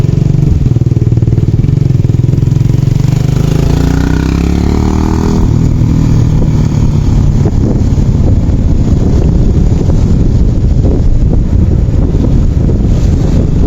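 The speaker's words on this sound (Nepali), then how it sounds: "मैले बाइक अन गर्नु पऱ्यो" A motorcycle engine runs steadily with heavy wind buffeting the microphone, a loud continuous roar and rumble throughout.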